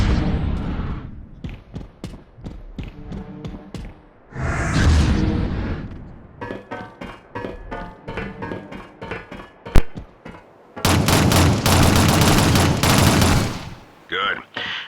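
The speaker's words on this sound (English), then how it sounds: "To eliminate a body, shoot it until it is destroyed." Gunfire in the game Shadowrun as players shoot enemy bodies: rapid automatic bursts and single loud shots, a few whooshes and a sharp crack, alternating with brief quieter gaps.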